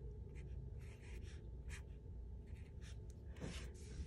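Pen writing on paper on a table, a soft continuous scratchy scrawl of strokes heard close up over a low room hum.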